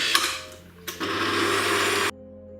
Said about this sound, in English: So I'm just going to add them into my stirring machine here. And just stir in it.